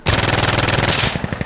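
Fast automatic gunfire from a gun in the video game Insurgency Sandstorm rattles off as a loud, close burst of rapid evenly spaced shots lasting about a second, then a few scattered trailing pops.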